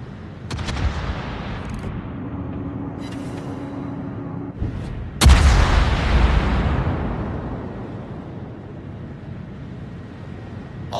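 Naval gunfire in a warship video game: several booming gun blasts, with the biggest near the middle followed by a long rumbling decay, over steady background engine and sea noise.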